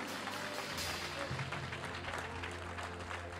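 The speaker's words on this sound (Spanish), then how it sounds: "Dale un aplauso al Padre." A church congregation applauds during a Spanish-language sermon, a fairly faint, dense patter of clapping spread through the room that continues steadily throughout.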